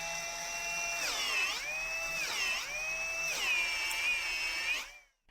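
An electric drill whines at high speed, its pitch dipping three times as load slows the motor and then recovering, before it cuts off abruptly.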